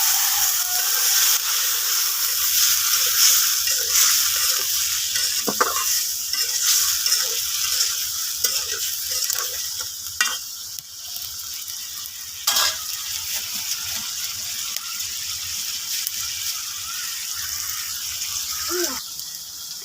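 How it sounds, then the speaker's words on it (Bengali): Fish and fried potatoes sizzle in spice paste in a wok, giving a steady frying hiss broken by intermittent scrapes and clinks of stirring. "আমি হচ্ছে মাছ আর আলু ভাজাগুলো দিয়ে দেবো কড়াইতে, একটু হালকা করে কষাই নেব।"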